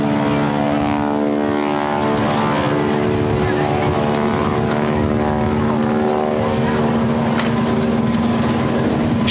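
Wing-walking biplane at a Blue Angels beach air show, its propeller engine droning loudly and steadily as it climbs for altitude, while an announcer talks over a public address system throughout.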